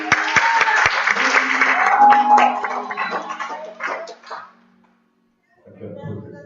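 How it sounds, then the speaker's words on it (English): A crowd at a cancer benefit concert applauds loudly with some cheering for several seconds, then the clapping fades into a brief silence before voices return. "Give me a round of applause as he comes."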